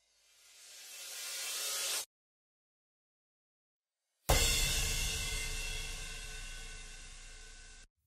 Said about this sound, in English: sweeps and impacts are just some ways to do that